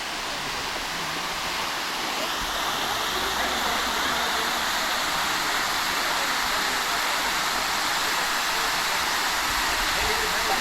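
Namma Aruvi waterfall in the Kolli Hills, a continuous dense rush of falling water heard close and loud, steady throughout with no break.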